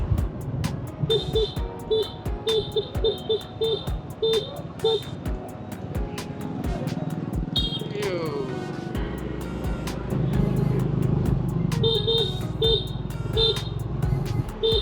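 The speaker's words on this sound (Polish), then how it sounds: "Ale klakson trzeba mieć." Repeated short car and motorbike horn beeps sound through busy night street traffic in Da Nang, Vietnam, with engines humming, a passing vehicle and people talking throughout.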